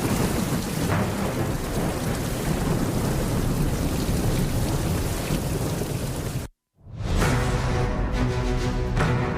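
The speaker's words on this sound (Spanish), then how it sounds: "esas torrenciales lluvias que se dejaron sentir desde el pasado fin de semana" Torrential downpour with thunder, a dense roaring wash of heavy rain and rumbling thunder that cuts off abruptly, then resumes with rain and distant rumble.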